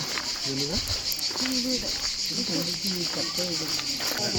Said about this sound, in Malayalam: ചീവീട് സൗണ്ട്.